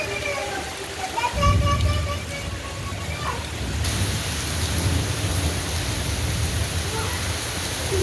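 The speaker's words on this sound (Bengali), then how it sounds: "হঠাৎ বৃষ্টি আর ঝোড়ো হাওয়া শুরু হয়ে গেছে। খুব বৃষ্টি হচ্ছে।" Heavy rain pours steadily with rumbling stormy wind and low thunder-like roar, a dense, continuous wash of noise that swells after a gust and keeps up throughout at close range.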